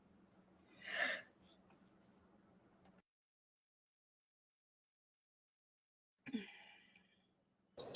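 A single short, sharp sneeze near the start over faint background hum, followed by silence and then a couple of soft breathy sounds.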